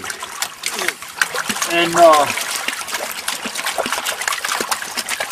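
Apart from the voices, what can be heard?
water swirling in a gold pan while panning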